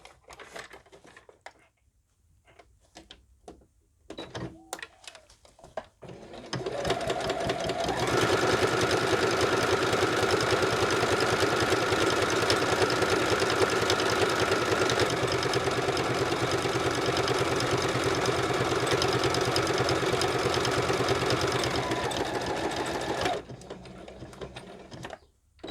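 A sewing machine runs top stitching on a vinyl project bag, a steady loud mechanical whir for about fifteen seconds after a few handling clicks and rustles, then stops.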